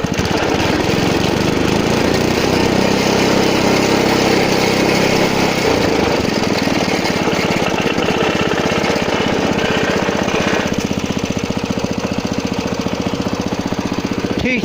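A Briggs & Stratton small engine with a freshly rebuilt carburetor runs loud and close, a continuous rough, knocking drone that changes pitch partway through, with no voices.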